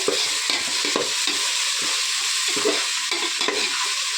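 Mint leaves fry in hot oil for mushroom biryani, giving a constant crackling sizzle with rhythmic spoon strokes scraping the pan. The sound is near and fairly loud, with no one speaking.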